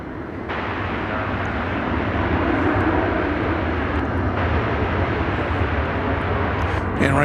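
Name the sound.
airplane arriving, flight from Querétaro, Mexico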